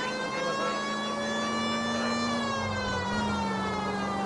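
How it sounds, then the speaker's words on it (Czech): Emergency vehicle siren in a PS4 video game, a continuous loud wailing tone slowly rising and falling in pitch, heard alone without talk. "Uhněte, mám sirénu"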